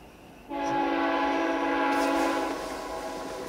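A freight train horn sounds in one loud, sustained blast with stacked steady tones, starting abruptly and holding for about two seconds before easing into a fainter trailing tail over distant rail rumble.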